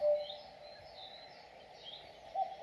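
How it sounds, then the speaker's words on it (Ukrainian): Soft chirps and tweets from distant songbirds sit faintly over a calm, low-level outdoor ambience, with a slight swell at the start and end. "співають пташки"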